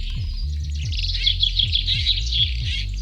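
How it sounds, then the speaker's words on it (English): Starlings sing and chirp in a woodland glade, a busy stream of overlapping twitters, whistles and rapid chatter, close and steady, over a low rhythmic thumping hum underneath. "The birds in this glade are starlings."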